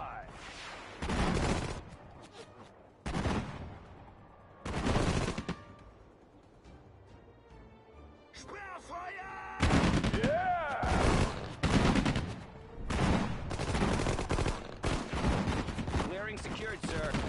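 Bursts of rapid gunfire in an Allied war strategy game, loud volleys separated by brief pauses, then a denser stretch of overlapping shots with short unit voice responses in between.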